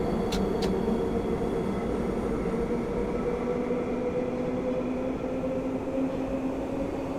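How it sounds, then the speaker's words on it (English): Trains run on a route in the Train Sim World 4 video game, producing a steady, continuous rail rumble and hum with a faint whine, heard alone at moderate level throughout. "you've always been able to hear the trains that are coming around the other sides."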